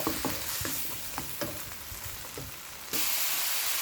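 Spatula stirring and scraping through egg fried rice with Chinese sausage and oyster sauce in a pan, a steady close sizzle broken by repeated scraping strokes, then a sudden louder hiss near the end; no talking.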